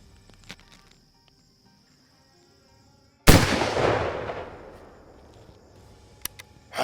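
A single muzzleloader rifle shot fired offhand with iron sights booms out loud and sudden after a quiet stretch, its blast rolling and decaying over a couple of seconds, followed by a few faint clicks and rustles.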